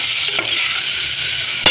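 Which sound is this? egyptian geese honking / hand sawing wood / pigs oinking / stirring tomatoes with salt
stirring tomatoes with salt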